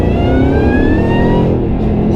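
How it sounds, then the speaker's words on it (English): A modified, supercharged 663-whp Shelby GT500 revs loud and close, its exhaust note climbing steadily in pitch over a couple of seconds with supercharger whine on top before easing off. "That exhaust sounds incredible."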